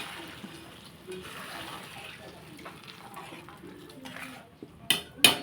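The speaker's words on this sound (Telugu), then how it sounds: "ఇప్పుడు చింతపండు పులుసు వేసేసుకుందాం" Tamarind juice is poured into a curry in a pot, giving soft watery splashing and stirring with faint metal scrapes, ending in a couple of louder clanks of a utensil against the pot.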